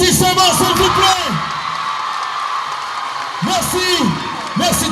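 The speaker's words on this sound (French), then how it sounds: "offrez à ce jeune artiste pétri de talent un tonnerre d'applaudissements" A loud crowd whoops, yells and cheers in bursts over a steady wash of clapping for a young performer at the televised Champion 2023 talent show in Bangangté.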